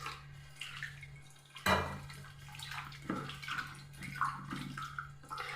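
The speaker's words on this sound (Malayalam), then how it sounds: "ഒരല്പം വെള്ളം ഒഴിച്ചിട്ട് നമുക്കൊന്ന് കഴുകിയെടുക്കാം" Water splashes and sloshes in a bowl in short bursts as hibiscus flowers are washed, with handling noises and a low steady hum underneath.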